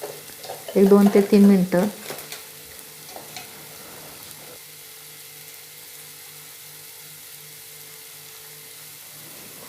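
Coriander powder masala for stuffed brinjal being sautéed in a pan: a loud burst of sizzling and stirring early on, then a low steady frying hiss, with someone speaking briefly.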